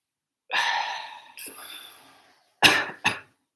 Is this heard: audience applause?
no